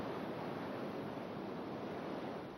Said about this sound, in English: surfers come for the world-class waves